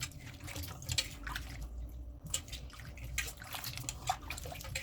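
Potatoes being washed in water in a home kitchen while garlic roast potatoes are prepared, giving a steady run of splashing, dripping and trickling water, fairly close and continuous, with no talking.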